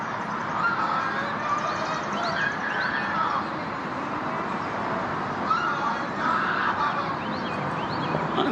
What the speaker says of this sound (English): Those birds freaked out.